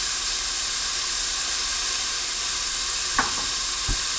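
Onions being cooked for a lamb curry sizzle steadily in a pan, a constant bright hiss with a couple of brief stirring knocks near the end; no one speaks.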